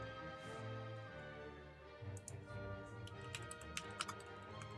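Fast typing on a computer keyboard, a run of light, quick key clicks heard faintly under a steady background hum, with no talking.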